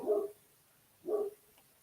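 Two separate dog barks about a second apart, moderately close, with quiet in between and no talking.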